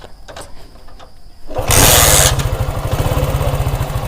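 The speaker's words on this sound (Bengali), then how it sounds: "এবার বাইকের স্টার্টের একটি সাউন্ড আপনাদের শুনে ধৈর্য ধরেন" A Honda CD80 motorcycle modified into a cafe racer is kick-started: after a few quiet knocks the engine catches with a loud burst partway through, then settles into a steady, close, throbbing idle.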